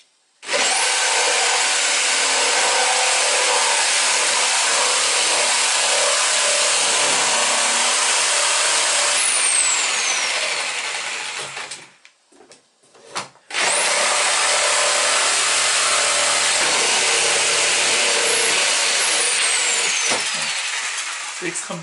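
A handheld jigsaw cuts through wood for a hole, held flat, a loud steady buzzing rasp that runs continuously, stops briefly around the middle with a couple of short bursts, then resumes just as loud to the end.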